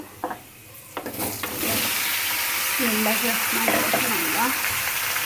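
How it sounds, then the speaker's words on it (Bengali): Bottle gourd pieces hit a pan of frying onions, bringing a loud, steady sizzle and hiss after a few clattering knocks, with a voice talking over the cooking noise. "তো আমার পেঁয়াজ ভাজা হয়ে এসেছে, এখন আমি লাউগুলো এখানে দিয়ে দিব।"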